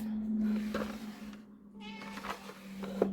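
A house cat meows several times close by in a quiet indoor room, with a low steady hum running underneath.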